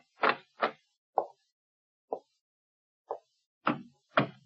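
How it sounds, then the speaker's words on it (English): A library door being tried in a radio drama: a run of seven knock-like thuds and rattles, two firm ones, three lighter spaced taps, then two heavier final knocks, close and dry with no voices. "Try the door, Muggen."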